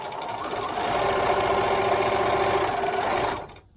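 A sewing machine runs a quarter-inch seam on a fabric face mask, a close, loud, continuous rhythmic whir that holds steady and then slows to a stop.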